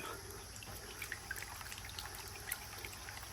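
Water sloshing and trickling as gravel is shaken around in a frying pan used for gold panning, a steady wet churning with small splashes.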